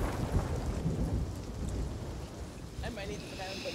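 Thunder rumbles continuously after a lightning strike in the pirate video game Sea of Thieves, mixed with steady heavy rain and sea wash, loud and enveloping, with faint voices talking underneath.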